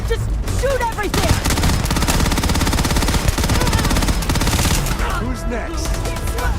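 Rapid gunfire from the video game Starfield, dense bursts of automatic shots layered with explosions and action effects, loud and sustained, with shouted voices over the top.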